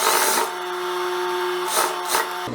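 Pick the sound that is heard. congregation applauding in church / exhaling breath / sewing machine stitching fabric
sewing machine stitching fabric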